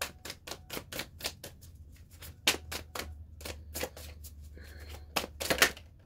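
Tarot cards are shuffled close up, a quick run of crisp riffling snaps and taps in uneven bursts, with no voice.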